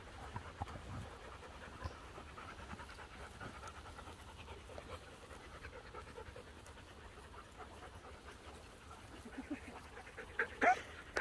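A dog pants quietly and steadily at a boarding kennel, soft rapid breaths with faint background movement and a few brief clinks near the end.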